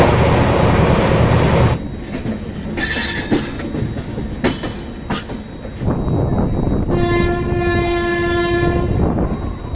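A passenger train on the Poorva Express route in India runs with steady rumbling and clattering wheels, and a loud sustained horn blast sounds near the end.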